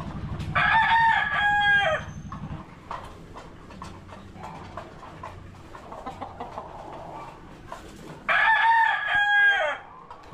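Two loud rooster crows close by from a large roundhead gamecock, one at the start and another near the end, with quieter clucking and shuffling between them.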